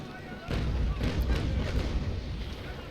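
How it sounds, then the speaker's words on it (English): Port broadside of naval cannons firing in the age-of-sail combat game Naval Action, a basic cutter fighting a privateer, heard as a series of loud, overlapping booms and rumbles that keep going for several seconds. "Let's first fire my port broadside at him"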